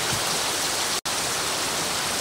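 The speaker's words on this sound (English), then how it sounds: "is raining so hard" Heavy storm rain pours down outside, a loud, steady broadband wash with no speech, interrupted by one very brief dropout near the middle.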